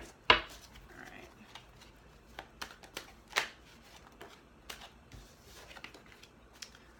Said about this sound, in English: Watch me shuffle